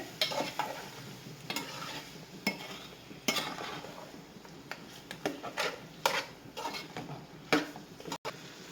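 A utensil stirs koramenu fish tamarind curry in a pan, making repeated soft scraping and clinking strokes at an irregular rhythm over a faint sizzle, close and quiet.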